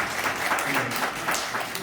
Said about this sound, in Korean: 박수로 한번 더 부탁드립니다.